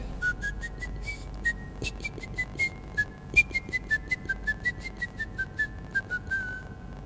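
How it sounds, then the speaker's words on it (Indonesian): A man whistles a tune in bright, clear notes, alone and close, with a quiet, wavering melody that moves through a rhythmic run of short and held pitches. "Suaranya dari siulan saya."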